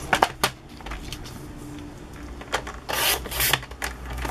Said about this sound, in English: I'll move it over here so I can trim this card down a little bit.